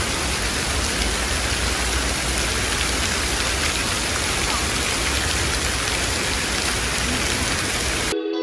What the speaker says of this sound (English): It's not raining, it is now Hailing? hailing.